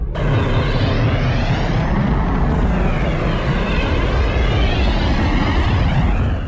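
Synthesized fire crackle built from white noise runs loud and dense without pause, shifting between brighter and duller sections as a ring modulator is switched in and out.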